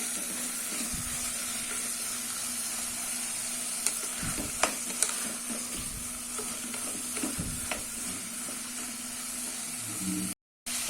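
Knol-khol and potato pieces sautéing in a pan, a moderate continuous sizzle with intermittent stirring clicks and scrapes, fairly close and steady, with no talking.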